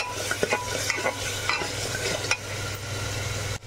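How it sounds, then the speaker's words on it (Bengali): Potatoes tossed with fried spices in a pan for channa masala, a continuous close sizzle broken by repeated spatula scrapes and clinks against the metal, with no voices. "এবার এর মধ্যে আলু দিয়েও একটু কষিয়ে নেব।"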